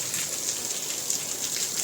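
Rain falls steadily outdoors with a continuous, hissing patter that stays even throughout, light and close, with no voices.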